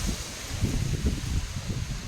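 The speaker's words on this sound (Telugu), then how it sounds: "పిచ్చి గాలి అసలు" Strong stormy wind whips through plant leaves in a home garden, a continuous low buffeting rush with rustling gusts that swell and ease, close and fairly loud.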